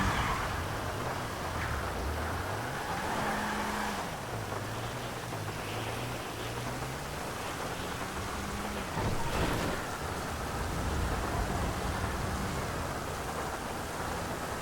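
Rain hisses steadily throughout a thunderstorm in the video game GTA Online, with a sharper thunder crack from a lightning strike about two-thirds through and a low, wavering hum running underneath.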